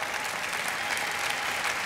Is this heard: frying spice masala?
no